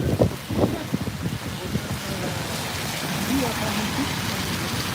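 Strong gusty wind blasts a microphone during snowfall in Elbasan, a rough continuous roar with faint voices underneath.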